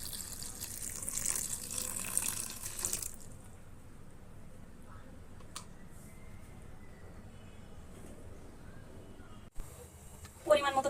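Water is poured over dried kachki fish to soak them, giving a rushing pour for about three seconds that then gives way to a quiet room with a few faint knocks.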